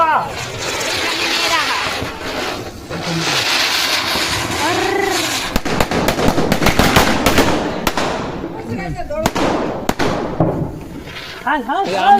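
Diwali firecrackers burst outdoors in a scatter of sharp cracks and pops, some close and loud, under constant talking.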